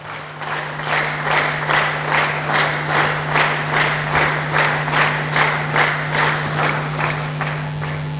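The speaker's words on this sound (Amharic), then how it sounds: "በጭብጨባ ተቀበሉልኝ" An audience at a graduation ceremony claps together in a steady, rhythmic beat, about two claps per second, over a low electrical hum.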